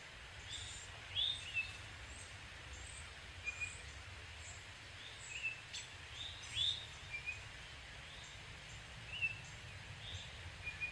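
Clear, whistle-like bird calls repeat every second or two over a soft, steady outdoor hush, fairly distant and thin.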